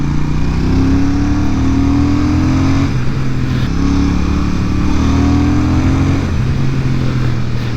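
A Royal Enfield Super Meteor 650 or Moto Morini Calibro 700 motorcycle accelerates through its mid-range, the engine droning and rising in pitch with gear changes, loud and continuous from the rider's position.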